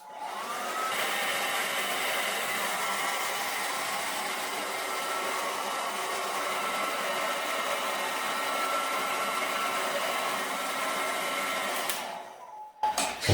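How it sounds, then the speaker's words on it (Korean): A hair dryer blows hot air over freshly applied paint, a loud continuous whirring rush held steady for about twelve seconds before it switches off with some handling clatter. "드라이기 뜨거운 바람으로 말려주셔야 됩니다."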